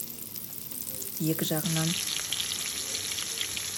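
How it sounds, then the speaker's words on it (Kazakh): Potato cutlets frying in oil give a steady, close sizzle that runs through the whole clip and grows brighter partway through. A brief spoken phrase is heard in the middle. "Енді котлетімді жасап алып, майға қуырдым."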